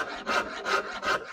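A coarse rasp files back and forth across a wooden guitar neck being carved, giving four rough rhythmic strokes, close and loud, with no voices.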